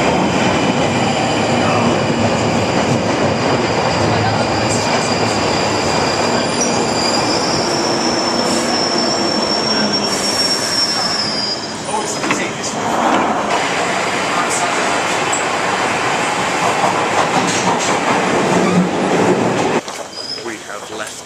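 A London Underground Northern Line train pulling into a platform, a loud sustained rumble of wheels on rail with high metallic squealing, while station announcements and voices sound over it.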